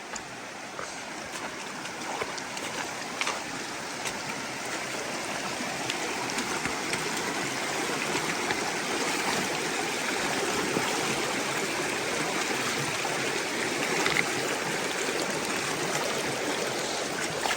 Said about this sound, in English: You found the river, good job.